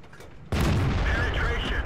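In the World of Tanks video game, a tank gun fires with a sudden loud boom. A sustained rumbling roar follows and stays heavy until the end, and no one speaks over it.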